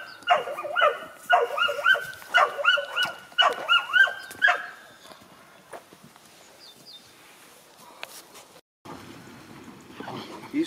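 Istrian and Porcelaine hunting dogs chasing a hare give rhythmic, repeated baying barks in bursts for several seconds, then fade into quieter rustling outdoor background with faint distant yelps.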